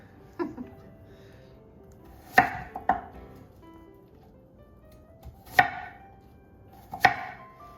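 Fresh onions chopped with a knife on a cutting board, several sharp, separate thunks spaced a second or more apart, with light background movement and no clear speech.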